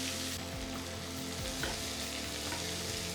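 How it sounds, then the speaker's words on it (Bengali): Chopped onions frying in ghee, a loud, dense, continuous sizzle close up, with no voices. "পেঁয়াজে রং ধরা অবধি ভাজতে থাকুন।"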